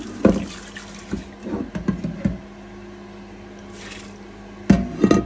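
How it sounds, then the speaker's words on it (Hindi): Water sloshes and splashes in short bursts as a freshly cleaned item is rinsed in water, with a quiet pause between the rinsing movements and a final burst of splashing. "मैं इसे पानी में खंगाल के आपको दिखाती हूँ"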